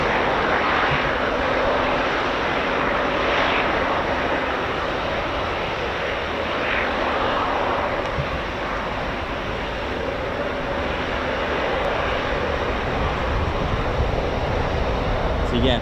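A jet aircraft arrives at the RAF Fairford air show with a loud, steady roar that swells and holds throughout, a broad rushing engine noise heard from the ground while people talk faintly underneath.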